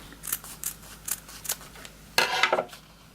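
Scissors snipping ribbon ends on a diagonal for a hair bow, several short crisp cuts close by, then a louder rustling snip near the end, no talking.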